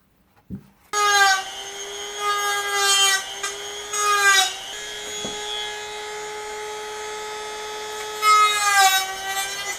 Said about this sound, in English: I'm going to use my Dremel and make a hole so I can wire my gimbal to this thing